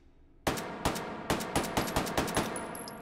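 A C-93 pistol in the VR game Hot Dogs, Horseshoes & Hand Grenades fires a string of about eight sharp, loud shots at slightly uneven intervals after a quiet moment, with no voices.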